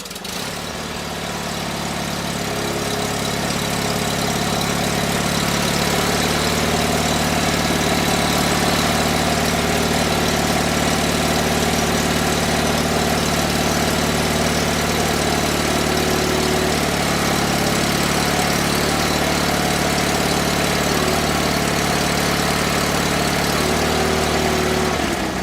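A vintage garden tractor engine starts and then idles steadily, a loud, continuous mid-low chugging drone with vibration, running alone for the whole stretch.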